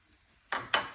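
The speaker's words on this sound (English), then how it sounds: "so I'm gonna throw some green onion in." Tomatoes and green onion hit a hot frying pan, giving two quick bursts of sizzle, close and fairly loud, with no talking.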